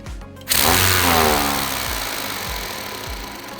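A 3D printed liquid piston engine with its regulator removed whirs up abruptly into a loud, fast mechanical drone, then keeps running steadily with rhythmic periodic thumps.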